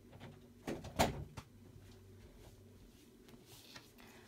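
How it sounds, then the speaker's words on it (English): Indoors, a door is pulled shut with a short wooden knock and a sharp close bump, quiet and near, followed by faint room noise and distant outdoor sounds. "Let me shut this door."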